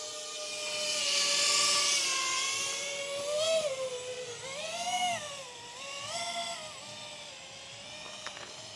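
A 5-inch FPV drone flies nearby, its whining propellers rising and falling in pitch as it swoops and changes speed, loudest early on and then fading and surging repeatedly.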